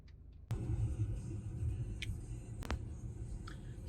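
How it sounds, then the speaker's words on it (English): A car drives along a road, its low rumble swelling in suddenly and holding steady close by, with a few faint clicks and knocks from inside the cabin. "So we are driving from Belvoir Hill to Rose Bay."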